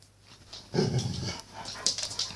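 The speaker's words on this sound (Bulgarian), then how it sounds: "кучето ми нещо ръмжи" A dog growls and whimpers in a low, rumbling burst lasting about a second, fairly close, followed by a few fainter higher yelps or whines.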